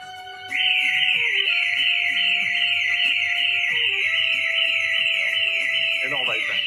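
A home security alarm siren sounds after the system is armed, giving a loud piercing continuous tone with a rapidly cycling pulse over lower beeping tones, while people talk in the background.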